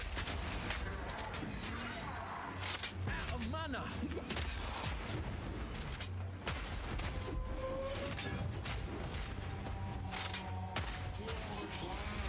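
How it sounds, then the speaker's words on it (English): Grenades exploding in the Path of Exile 2 action game, a rapid scatter of bangs and crashes over busy combat noise, with a voice talking throughout. "Let's throw out a few preemptive grenades."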